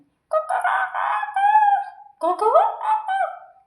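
A person's voice imitates a rooster crowing, giving two drawn-out cock-a-doodle-doo calls close to the listener with a short pause between them.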